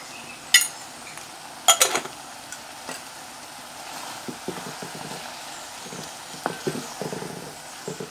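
Bottle gourd halwa cooks in ghee in a pan in a village kitchen, a spoon scraping and knocking against the metal in scattered clinks and taps with quieter stirring between.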